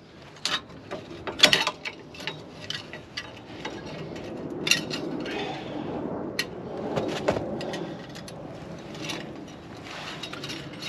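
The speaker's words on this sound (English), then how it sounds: "All the noise is coming from the actual actuator." Electric parking brake actuator on a Range Rover Sport L320 whirring and clicking in short mechanical bursts, close up, with uneven ticking pulses over a steady motor drone.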